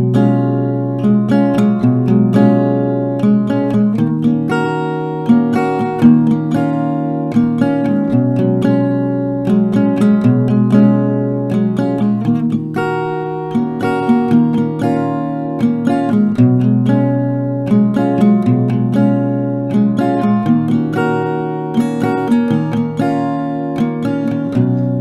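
Acoustic guitar playing a melody, each emphasized note ringing together with neighbouring strings, sustained and steady for about 25 seconds, close and fairly loud with no talking.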